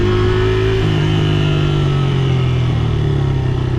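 A delivery rider's Honda XR motorcycle runs on a Chinatown city street, a loud, close, steady engine drone with a slight rise in revs throughout.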